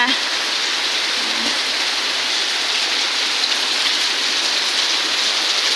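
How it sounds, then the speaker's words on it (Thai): Heavy rain pours steadily on a small school in Thailand as a dense, constant hiss of water on surfaces, loud and unbroken throughout. "ในโรงเรียนฝนก็ตกหนักซะด้วย"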